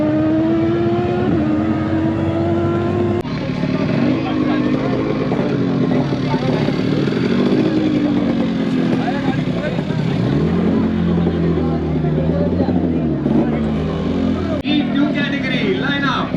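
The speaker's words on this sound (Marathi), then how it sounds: "इकडे फक्त तुम्हाला गाड्यांचा आणि कारचा फक्त साऊंड ऐकायला येणार, तो पण एकदम खतरनाक" Motorcycles and cars at the Valley Run event produce a loud, continuous engine roar with rising and falling revs and an occasional pass-by, while people talk under the noise.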